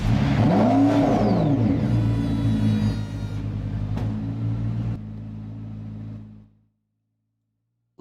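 A car engine in the Roblox game Driving Empire revs up loudly with rising and falling pitch, settles into a rumbling idle, then cuts off into silence.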